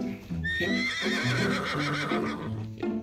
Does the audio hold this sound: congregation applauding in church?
no